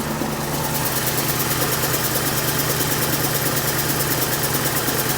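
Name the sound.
1997 Cadillac hearse engine idling after spark plug change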